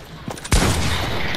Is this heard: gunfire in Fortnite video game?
yes